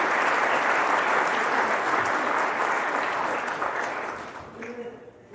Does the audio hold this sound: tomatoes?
no